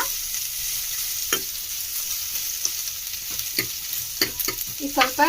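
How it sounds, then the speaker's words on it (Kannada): Green chillies deep-fry in hot oil for a soppina palya, giving a steady bright sizzle broken by scattered scrapes and clicks of stirring. "ಇದನ್ನು ಸ್ವಲ್ಪ ಡೀಪ್ ಫ್ರೈ ಮಾಡ್ಕೊಳ್ಳಿ."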